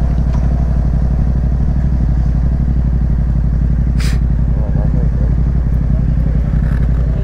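A motorcycle engine idles loud and close at a police road block, a steady throbbing rumble with occasional clatter and a brief rustle.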